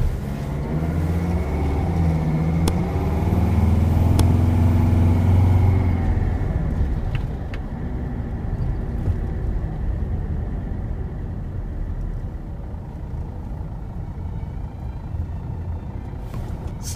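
T1N van driving on the road, a steady engine drone and low rumble with road noise from inside the cab, louder at first then settling to a constant hum, no talking.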